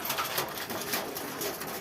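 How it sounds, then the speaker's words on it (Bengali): Pigeons at a Bangladeshi desi pigeon farm, soft repeated cooing close by over a broad breathy background, no one talking. "এখানে কিন্তু আছে কবুতর"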